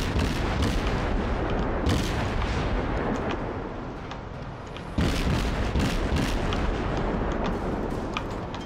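Naval gunfire from World of Warships, heavy artillery booms rolling one into the next, dense and loud throughout with a sharp renewed salvo partway through and no talking.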